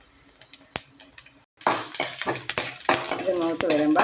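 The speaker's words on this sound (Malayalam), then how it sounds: "ഇനി ഞാൻ ഇത് കടുക് വറുക്കാൻ പോകണം." Mustard seeds and split green chillies fry in coconut oil while a metal spoon stirs and clinks against the pan. It is quiet with a few sharp taps at first, then a brief pause, then a louder, crackling sizzle with repeated scraping.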